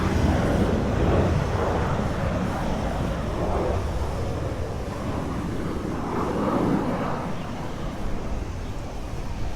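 A Jet2 airliner comes in to land over the beach at Ciudad Jardin, Palma, Mallorca, a steady loud jet roar passing overhead with some wind buffeting.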